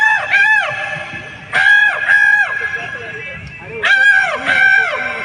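A man vocally imitates a crow at an open mic, giving loud repeated cawing calls in three bursts of two or three caws each, with short pauses between.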